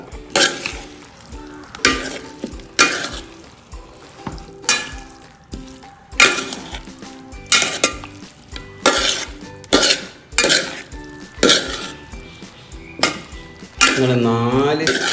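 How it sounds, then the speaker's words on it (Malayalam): Chicken curry is stirred in a pan with a metal spoon: about a dozen rhythmic scraping, clattering strokes come roughly once a second against the cookware, close and loud, with a brief voice near the end. "ചിക്കൻ നന്നായിട്ടൊന്ന് വഴക്കി അങ്ങനെ എടുക്കാം."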